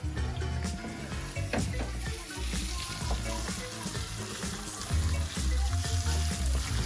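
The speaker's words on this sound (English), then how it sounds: "Putting the onions in." Onions frying in a pan for a spiced potato dish: a steady, close sizzle with light crackle and occasional clinks, and no voices.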